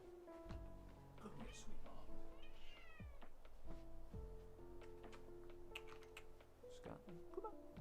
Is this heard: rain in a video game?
no